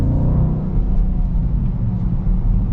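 A 2026 Dodge Durango GT Plus with its Hemi V8 rumbles close by, a deep, steady, loud engine drone that holds throughout without distinct revs.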